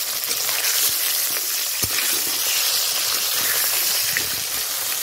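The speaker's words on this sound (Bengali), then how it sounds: "এবার আমি মাছের মুড়োগুলোকে লাল লাল করে দুটি ভেজে" Fish heads fry in hot oil in a pan for a Bengali muri ghonto, giving a steady, close, loud sizzle and hiss throughout, with a few faint clicks and stirring sounds.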